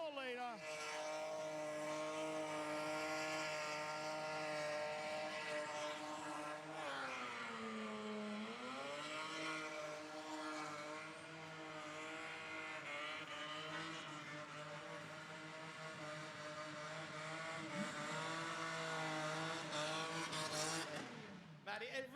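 A Spotto 4 litre car holds a long, loud, sustained engine roar during a burnout at a Burnanza event, with revs dipping and rising and tyre noise blended in, under commentary talk.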